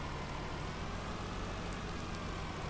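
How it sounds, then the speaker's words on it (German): Steady rain falling in the farming game Landwirtschafts-Simulator 19, a dense, even hiss with a faint low engine hum beneath, continuous and without speech. "Und jetzt fängt es auch noch an zu regnen."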